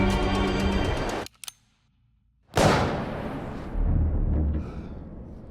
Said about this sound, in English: all of a sudden the sound cuts out and you only hear the gun.